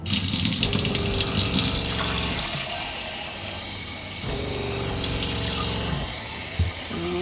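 Filtered fresh water runs steadily from the cold sink faucet in a Sprinter camper van, a continuous close splashing stream with a pump humming beneath it.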